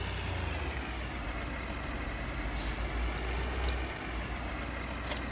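A MAN truck engine in Farming Simulator 2013 drones steadily at idle, with a few short hissing bursts like air brakes over the continuous rumble.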